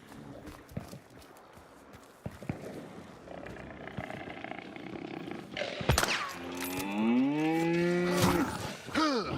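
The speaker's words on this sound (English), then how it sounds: "Cow gave away my position." A cow in the video game Hunt: Showdown lets out a loud, drawn-out moo with rising and falling pitch, following earlier muffled game noises and footsteps.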